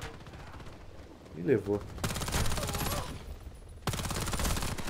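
An MPA 10SST-X submachine gun fires at roughly 1,000 rounds per minute in Warface on the Palace map, in two long, dense, loud bursts after a short spoken exclamation.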